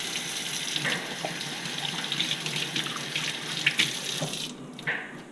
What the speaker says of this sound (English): Washing your hands again in between since we just handled chicken.